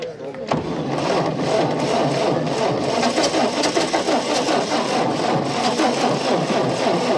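A 1929 Ford Model A engine being cranked over, a steady rapid rhythmic churning that runs for several seconds without catching, with voices shouting over it.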